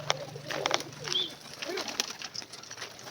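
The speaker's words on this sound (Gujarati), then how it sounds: "આપણા કબૂતર પાછા બેસી ગયા છે અત્યારે" Pigeons settled back on their perch give soft intermittent coos at close range, faint against a quiet outdoor setting with a few sharp chirps and light rustles mixed in.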